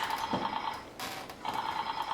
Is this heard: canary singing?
no